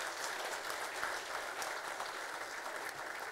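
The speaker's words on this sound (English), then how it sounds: "I would request the House to again give a big round of applause to all" A hall audience at a Passport Seva Divas and passport office conference gives a steady, continuous round of applause, faint and distant, with no voices over it.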